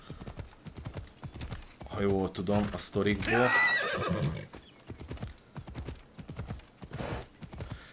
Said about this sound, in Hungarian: Pegazus a szárnyas szarvasló.